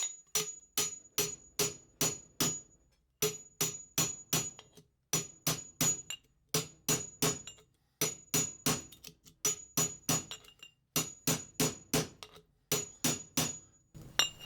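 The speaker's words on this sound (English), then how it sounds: "get my hammer" A hammer pounds pearl shell inside an 8-inch, 3/4 pipe with a sanded end cap in a luthier's shop, striking in quick bursts of three to five sharp metallic blows separated by short pauses, loud and close, with no talk.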